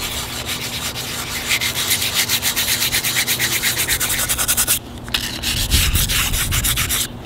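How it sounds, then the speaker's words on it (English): Sanding a ceramic bonsai pot before glazing, smoothing out a small bump: steady, close rhythmic rubbing strokes for about five seconds, then a brief pause and a heavier, lower scrubbing pass. "And then sand it out."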